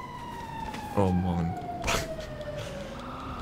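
A fire engine siren in the video game GTA V wails with a steady high tone, joined by a brief horn-like blare, while someone speaks briefly over it.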